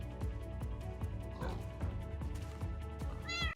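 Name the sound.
baby ocelot meowing in Minecraft video game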